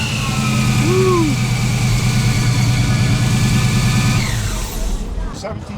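A supercharged 5.7 Hemi V8 with a Whipple blower runs close and loud, a steady deep throbbing idle with a rising whine briefly sweeping up, then the note drops and fades near the end.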